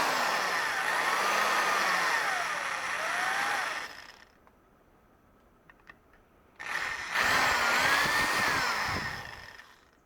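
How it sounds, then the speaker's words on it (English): Small 1/8 inch bit in a hand drill boring a pilot hole, two loud whining bursts of motor with pitch sweeping up and down as the bit grabs, separated by a few quiet seconds of faint handling clicks. "then I will use a 1/8 inch drill to do a pilot"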